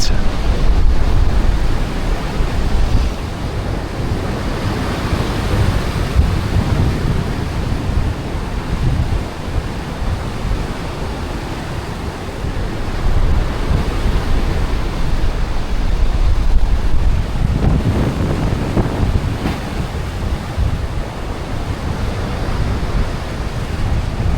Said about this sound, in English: So you can watch the water raging in a little bit.